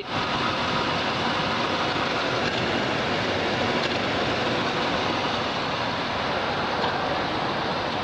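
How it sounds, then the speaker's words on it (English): The V8 of a 1975 Cadillac Eldorado idles smoothly and quietly with a steady, even rumble that runs through the whole stretch without any talk over it. "Nice, smooth running V8."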